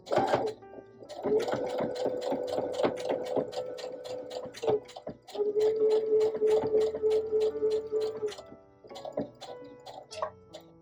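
A sewing machine stitching a flower appliqué for a quilt block: rapid, even ticking stitches in a continuous run, pausing briefly between bursts, close and fairly quiet.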